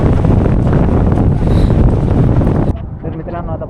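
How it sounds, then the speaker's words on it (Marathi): Strong gusting wind buffets the microphone during a jungle trek at Malshej Ghat, a loud continuous roar that cuts off abruptly near the end, leaving quieter rustling and a voice in the background. "आणि वारा इतका जोराचा आहे की म्हणजे चालायला थोडं अवघड होतंय थोडं"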